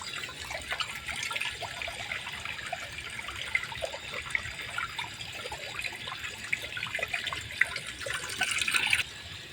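Water runs steadily from an emergency eye wash station in a factory, a soft continuous trickle and splash heard close and fairly quiet, with no talk over it.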